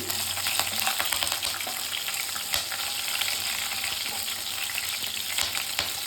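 Cumin, chopped green chillies, onion and curry leaves fry in hot oil for horse gram upma, giving a dense, steady sizzle with crackles throughout and no talking.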